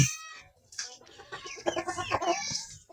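A rooster and hens on a farm cluck and squawk close by, with a busy run of overlapping calls and one sharp cry at the start; no speech.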